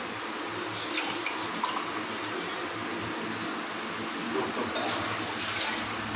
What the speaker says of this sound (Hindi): दो कप आपने इसमें दूध मिक्स करना है।